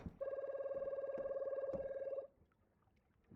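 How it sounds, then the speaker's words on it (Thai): An electronic telephone ring sounds in the fishing-debt game Loan Shark at night, a steady, clear warbling trill that lasts about two seconds and then stops into near silence. "โอ้โทรศัพท์มา"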